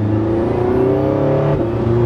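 Engine of a Porsche 918 Spyder hybrid supercar with the roof off, a loud close low rumble with a shifting drone that steps in pitch partway through, with no talk.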